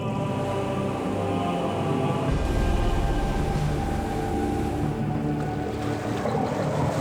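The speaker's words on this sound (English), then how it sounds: "You notice how we're backing the boat up?" A low boat engine rumbles steadily with a deeper surge partway through as it shifts into reverse, over wind and splashing water, with no voices.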